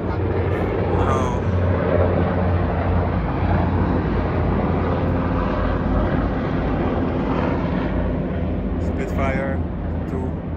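Spitfire fighter aircraft pass overhead during a flypast, a loud continuous engine roar that stays steady throughout, blended with crowd noise and people talking nearby.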